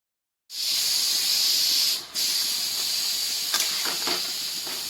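Leafy greens fry in a pan as their water cooks off, giving a loud, steady hiss that dips once and then carries on, with a few light crackles near the end.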